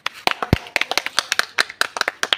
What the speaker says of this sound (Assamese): এটা হাত চাপৰি মাৰা চবে